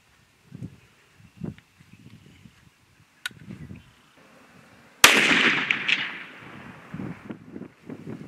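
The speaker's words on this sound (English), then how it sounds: "Here we go with shot number 4." A Remington Ultimate Conversion muzzleloader, short and compact, fires one loud, sharp shot at close range, followed by a long decaying rumble, with quiet rustling and movement before it.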